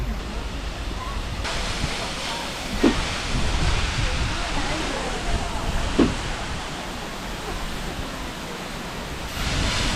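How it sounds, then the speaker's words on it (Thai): A waterfall on Jeju Island heard from very close, a loud, dense, constant rush of falling water with a few brief knocks, and a voice talking under it. "ความ Amazing ที่นี่ก็คือเราได้เข้าใกล้น้ำตกแบบ ใกล้โคตรใกล้มาก"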